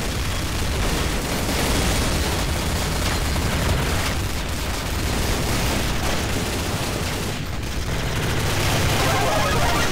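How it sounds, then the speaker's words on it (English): Dense, continuous battle noise from Counter-Strike: Source, with grenade booms and rapid gunfire blending into a loud, unbroken roar with no clear pauses. "Lucky grenades."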